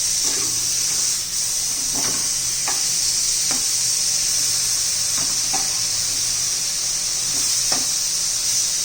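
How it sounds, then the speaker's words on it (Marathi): Eggplant slices frying in oil give a steady, loud sizzling hiss, with occasional soft scraping knocks as pieces are turned over one by one in the pan; no talking. "आता उलटून घेणार आहोत त्यासाठी थोडंसं असं तेल सोडायचं आता एक एक आपण उलटून घेऊया"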